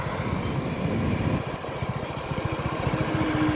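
Low, throbbing motorcycle engine running steadily while riding, with a pulsing rumble and wind noise, no talking.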